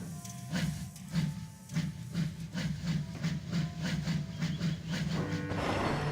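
A steam engine named Alfred rolls off to collect his coaches, giving a steady rhythmic chuffing with hissing steam and a low rumble, moderately close, with faint clicking toward the end.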